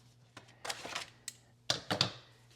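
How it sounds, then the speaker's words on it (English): Scissors snipping through a leather holster pattern, a few quiet, close crisp cuts in short irregular bursts over a faint steady hum, with no talking. "let me cut that here with scissors"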